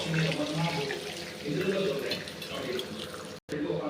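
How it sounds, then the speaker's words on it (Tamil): Water pours steadily into a cooking pan for traditional rice upma, a continuous close splashing rush that fills the whole moment with one brief break near the end. "தேவையான அளவுக்கு ஜலம் விட்டுக்கலாம்."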